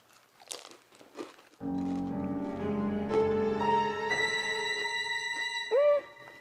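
A crunchy homemade viral-recipe onion ring, dipped first, is bitten and chewed with a few sharp crunches up close, followed by a long sustained tonal passage.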